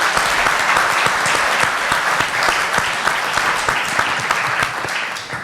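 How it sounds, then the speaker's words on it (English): A dense, steady round of applause from an audience at an ethics in leadership event honoring Dr. Kegley. Many hands clap loudly and continuously for several seconds. "So will you give Dr. Kegley a round of applause?"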